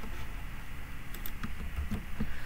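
Computer keyboard keys tapped while code is written in Google Colab, soft scattered clicks over a steady low background hum, fairly faint and close.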